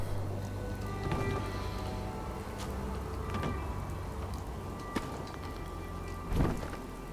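Steady rainfall in a video game, a soft, even hiss with scattered faint drip-like ticks and a low rumble underneath, quiet and continuous throughout without speech.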